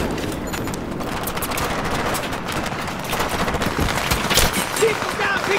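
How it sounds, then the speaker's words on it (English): Battlefield 3 gunfire during an ambush from the trees, dense continuous machine-gun and rifle fire with overlapping bursts, close and loud throughout, mixed with combat noise and shouted voices. "Keep them down, taking fire from the left!"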